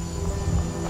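A horse in Skyrim shifts about after its rider dismounts, a brief run of low, soft hoof clops on the ground, close and moderately loud over a steady background hum.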